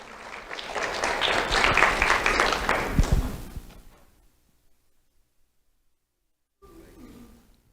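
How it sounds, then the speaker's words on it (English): An audience claps for an honoree at a sheriff's office awards ceremony, a loud swell of applause lasting about four seconds before dropping to silence, then a brief burst of room sound returns. "Let's have a round of applause for Jasmine Prieto"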